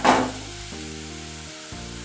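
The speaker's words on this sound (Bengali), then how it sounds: "বিটটা একটু তেলের মধ্যে ভালো করে একটু ভাজা ভাজা করে নেব।" Grated beetroot hits hot oil with panch phoron and slit green chillies over a low flame, first a loud crackling sizzle, then a quieter steady frying hiss that carries on alone.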